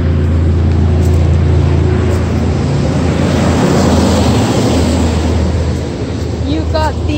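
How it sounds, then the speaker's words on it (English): A truck rumbles past loudly and close by, a broad sustained roar that holds steady for several seconds and then eases off slightly near the end. "Sorry, truck going by."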